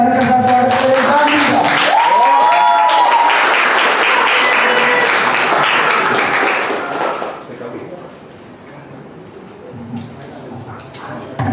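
A lively audience at a poetry and spoken-word gathering claps loudly to welcome a writer to the stage, with voices and cheers over the dense clapping. The applause thins out after about seven seconds to scattered sound.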